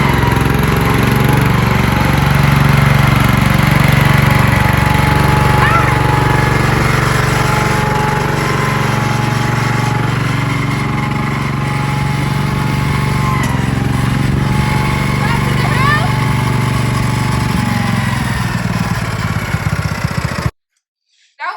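An old Ford barn-find tractor engine runs steadily at close range, a loud continuous drone that carries for about twenty seconds before cutting off abruptly.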